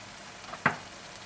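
Ground spices and minced meat for keema karahi hit hot oil with one short, sharp sizzle that quickly fades back into a quiet kitchen background.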